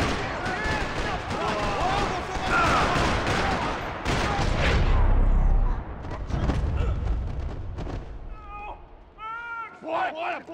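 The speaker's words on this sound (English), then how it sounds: "Another parking lot rattling with gunfire." Gunfire crackles through a parking lot in the Max Payne 3 video game, dense bursts mixed with shouting voices that gradually thin out, leaving scattered cries and squeals near the end.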